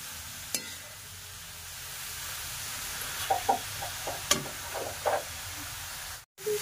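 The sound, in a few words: grated carrots sautéed in ghee for gajar halwa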